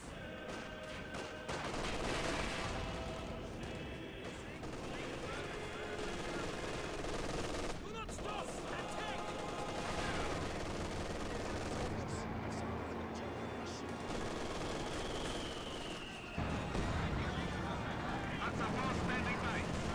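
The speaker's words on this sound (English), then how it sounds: "MG34 peppering up the conscripts." MG34 machine gun fire in the World War II strategy game Company of Heroes 2, dense bursts of automatic gunfire mixed with other battle noise and explosions, continuous and loud throughout the clip.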